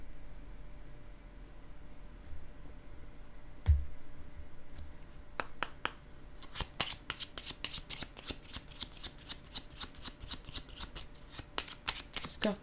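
Tarot cards being shuffled by hand, quiet rustles early then a fast run of crisp riffling flicks from about midway to the end, close and clear with no talking.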